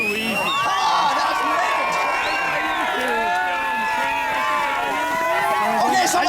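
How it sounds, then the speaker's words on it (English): Pep rally crowd noise with a drum and bugle corps and marching band present: a loud, steady wash of audience shouting and whooping with some clapping, filled with dense overlapping voices from start to finish. "You audience folks can cheer louder than that."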